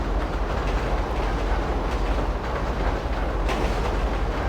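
A train in GTA V runs along a single track with a steady, loud rumble and a faint clickety-clack, continuous and close throughout with no talking.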